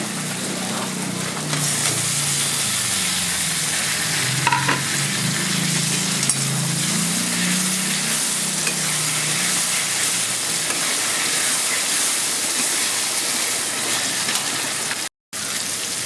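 Spice paste of ground cumin and tomato fries for a mutton curry, a continuous dense sizzle with scraping stirs over about sixteen seconds, no voices, cutting out abruptly for a moment near the end.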